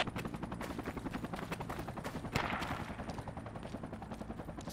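Distant gunfire in the tactical shooter game Project Reality: rapid bursts of automatic shots crackle continuously from far off, with one sharper, louder report and a brief rushing swell in the middle, no talking.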